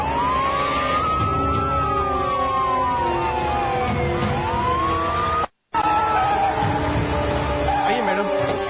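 A wailing ambulance siren sweeps up and down in long glides, loud and close over a steady engine rumble, cut by a brief dropout before it continues.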